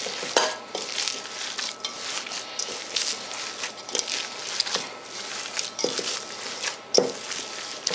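Hands squishing and mixing breadcrumbs into a raw meatloaf mixture, a steady wet kneading with irregular soft slaps and clicks, close and moderately quiet, no talking.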